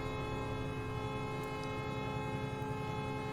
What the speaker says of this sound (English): Let's give it the honking.